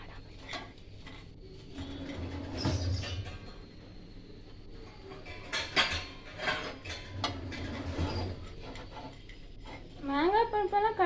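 In a home kitchen, a knife taps and scrapes through food on a cutting board while preparing egg bhurji, giving scattered sharp clicks and clatter with quiet pauses between them.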